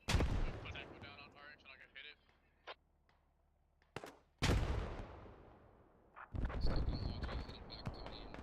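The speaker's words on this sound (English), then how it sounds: "See some artillery coming in there on this set." Artillery shells land in the tactical shooter game Squad, with heavy booming blasts that swell and fade in long rumbling bursts, and sharper gunfire cracks in between.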